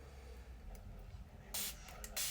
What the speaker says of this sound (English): This, let's spray this.